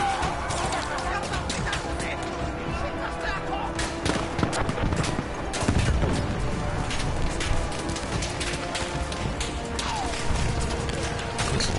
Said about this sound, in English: Freaking whizzing bullets flying past you.